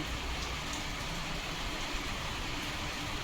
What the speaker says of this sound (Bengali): খুবই বৃষ্টি হচ্ছে বাইরে